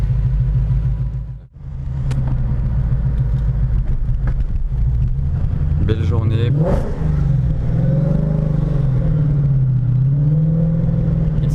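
A supercharged 825 hp Sutton Mustang idles with a deep, loud, steady rumble in Monaco, dipping for a moment before revving up with a rising roar that settles back into a throbbing burble; someone speaks briefly over it.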